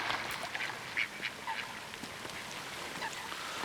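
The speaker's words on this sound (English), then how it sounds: "Look at the ducks. They're enjoying themselves." Ducks quack on the water, several short nasal calls scattered over a faint outdoor background, fairly close and moderately loud, with no talking.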